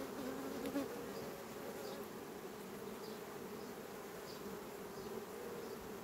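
A colony of honey bees buzzes steadily around an open hive during hive expansion work, a dense, continuous hum holding close and even throughout with no voices.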